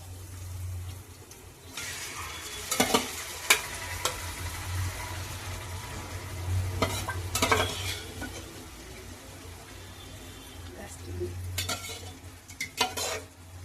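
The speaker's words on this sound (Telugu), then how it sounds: "ఇదిగోండి ఆనియన్స్ ఇలాగా బ్రౌన్ కలర్లో వేసేయండి. వీటికి చికెను వేసేస్తున్నాను." Chicken added to browned onions sizzles and fries in a pan while a spoon stirs and scrapes it in bursts, over a steady low frying hiss close by.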